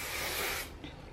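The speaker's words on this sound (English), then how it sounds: "Lastly, I use the Pantene hairspray." Pantene flexible hold hairspray hisses onto hair in one continuous close burst lasting over half a second, then cuts off, leaving faint rustling.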